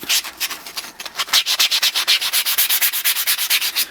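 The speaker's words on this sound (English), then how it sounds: "remember not to sand this edge too much, because you want some texture on there" Rhythmic back-and-forth sanding of a climbing hold edge, fast regular strokes at close range, loud and alone, speeding up after a slower start.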